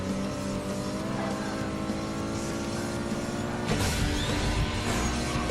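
Steady engine roar of a racing car under game music, with a sudden surge and whoosh partway through as the boost kicks in.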